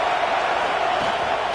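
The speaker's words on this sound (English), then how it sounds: "this crowd trying to help keep them there" Football stadium crowd at an NCAA Wolverines game roaring steadily as the opposing team is pinned deep in its own end early in the second quarter, a loud, continuous wash of cheering with no breaks.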